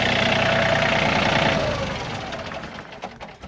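A farm tractor engine idles loud and close with a steady low rumble and knock, then winds down and fades as the engine is shut off.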